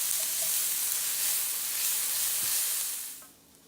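Yellow onions sweating in a pan for a smoked Gouda chorizo quiche hiss in a soft, even sizzle that fades down sharply near the end, with no one talking.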